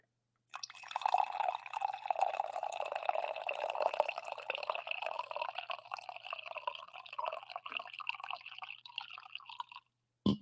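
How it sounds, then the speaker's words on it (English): Coffee poured into a cup in one continuous trickling stream that lasts several seconds, close and fairly quiet, followed by a short clink at the end. "I've had some rough coffee pours lately, though, where I spilled."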